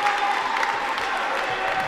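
A crowd at a college men's basketball game roars and applauds in a dense, sustained wash of noise, loud and continuous throughout.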